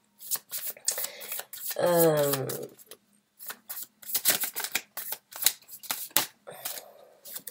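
Tarot cards are shuffled up close in quick papery riffles and bursts, one louder flurry standing out, with a voice speaking briefly between them.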